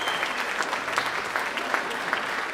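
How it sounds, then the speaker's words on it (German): An audience in a hall at a Kunst gegen Bares talent show gives a round of applause: continuous, moderately loud clapping from many people at an even level throughout. "mit ein bisschen Applaus jetzt"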